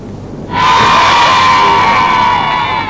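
Crowd cheering and applauding in Glasgow in 1979, a loud, sustained roar of voices and whoops that swells in suddenly and holds steady, with a high tonal whistle riding on top.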